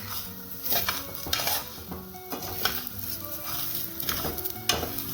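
Rice toasting in a hot pan for Mexican rice, stirred steadily with a utensil: continuous soft sizzling with scraping and light clinks against the pan, close by, with no talking.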